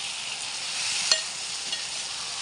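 Cabbage and tomato pieces frying in hot oil in a pan, a steady bright sizzle with a couple of soft scraping stir strokes, close and alone without talk.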